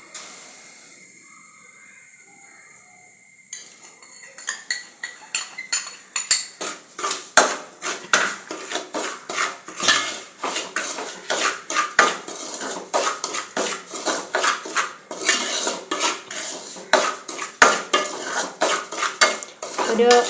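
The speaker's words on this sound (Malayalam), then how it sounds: "നമ്മൾ ഇതിപ്പോൾ 1 കപ്പ് റവ ഉണ്ട്. ഇത് നമ്മൾ ഈ നെയ്യിൽ വറുത്തെടുക്കും." One cup of semolina roasting in ghee in a pan for jaggery rava payasam, a spoon stirring and scraping in a steady rhythm of close clinks and rasps, with no talking.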